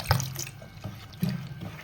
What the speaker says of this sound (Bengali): আর একটু জল হবে, একটু মোটা হয়ে গেছে।